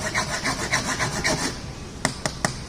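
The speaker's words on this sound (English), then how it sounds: "we're using these same demo knives multiple times a day to tear into that hammer" Demo knife cutting a groove into a metal hammer: rhythmic rasping strokes of blade scraping metal, then three sharp clicks, close and moderately loud with no talking.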